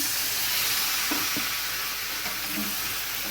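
Sizzling and steam hiss as a splash of spice-rinse water hits cauliflower, potatoes and prawns frying in a pan, with a couple of brief stirring clatters; steady and close, with no talking.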